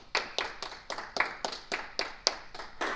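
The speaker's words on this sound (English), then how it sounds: "Yeah, you can applaud." A small audience claps after a CRM presentation, with sharp, evenly spaced hand claps in a steady rhythm, moderately faint, and no talk over it.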